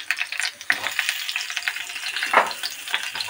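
Eggplant halves and tomato fry in hot oil in a pan, giving a steady crackling sizzle with bursts of sharper spitting, close and moderately loud, with no voices.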